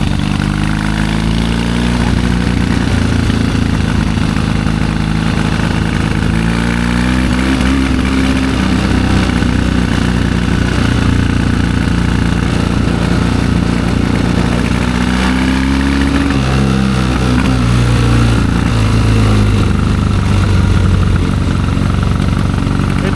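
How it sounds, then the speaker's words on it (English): A 1972 Triumph 650 Bonneville motorcycle engine runs loud and close for the whole stretch, rough after long disuse, with repeated rising-and-falling revs over a steady lumpy idle. "She don't rev very good, but she hasn't been ridden in a really long time."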